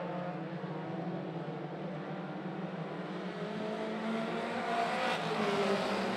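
Mini stock race cars roar around a track, their engines droning and rising steadily in pitch as they accelerate door to door out of a turn, a dense continuous engine noise with no talk.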